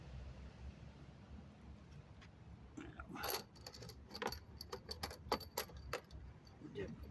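Metal transmission bolts clink and jangle while being handled during final assembly of a valve body, filter and transmission pan, with a few sharp, close metallic rattles that grow busier in the second half over a low background hum.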